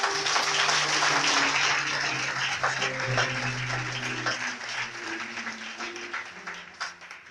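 A church congregation breaks into sustained applause and cheering at a healing testimony, dense clapping with voices mixed in, loud at first and gradually thinning out.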